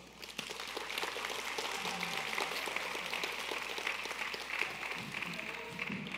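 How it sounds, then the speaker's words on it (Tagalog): Church congregation clapping, a fairly faint, steady patter of many hands that carries on evenly for several seconds without any voices over it. "Mga anak na meron pang mga magulang dito, pwede bang pumalakpak kayo ng malakas?"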